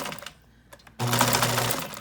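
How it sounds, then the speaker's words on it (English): A sewing machine stitches a channel across a fabric face mask, starting after a quiet pause with a few soft clicks, then running steadily in a loud, close mechanical whir for about a second. "let's go to the sewing machine. Okay, we're gonna sew a little 3/8 inch channel right where this pin is"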